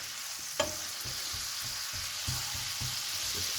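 Carrots with rosemary sizzle steadily in a frying pan, a soft constant hiss with a few light stirring knocks, close and moderately quiet, no talk.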